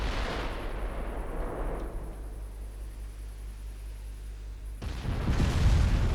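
Naval guns fire in a warship battle in the video game Ultimate Admiral Dreadnoughts, heavy booming blasts over a steady roar of battle noise and a low engine drone, with a louder surge near the end.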